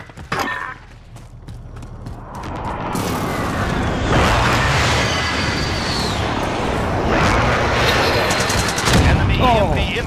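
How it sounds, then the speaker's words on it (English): A precision airstrike in a video game, heavy sustained rumbling barrage with crackling blasts and bursts of gunfire, loud and continuous for most of the stretch after a brief quieter opening. "Allied precision airstrike incoming."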